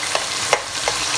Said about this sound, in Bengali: পেঁয়াজ, তেজপাতা, এলাচি, দারচিনি, লং, ঘি এবং তেল দিয়ে ভেজে নিচ্ছি পেঁয়াজটা